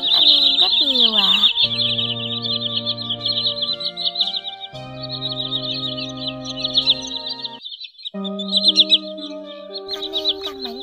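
A recorded call of the common greenshank plays loud and continuous, shrill repeated whistling notes layered over strong, steady lower tonal tones, nearly unbroken.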